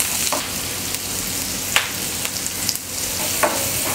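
Sliced onions with a little salt frying in oil in a pan, giving a steady, close, fairly loud sizzle with a few brief scrapes and clicks on top.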